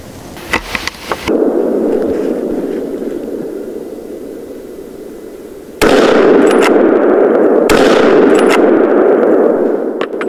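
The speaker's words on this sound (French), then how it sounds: "Magnus tire un dernier sanglier avant la fin de la traque." Gunshots at a wild boar drive hunt in Hungary, a few sharp cracks followed by a roaring, rushing noise, then two louder reports later, close and harsh.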